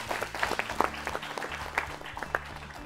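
Scattered applause from a quiz competition audience, a steady patter of claps with a few sharper ones, moderately loud throughout.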